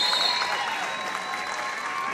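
Crowd applause fills a sellout gymnasium at a boys basketball championship, a steady dense roar of clapping that holds at full strength throughout.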